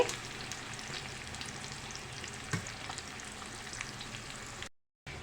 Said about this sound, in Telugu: కరివేపాకు ఒక స్పూన్ పసుపు అండి ఇలా ఫ్రై చేయండి కొంచెం కలర్ చేంజ్ అయ్యేదాకా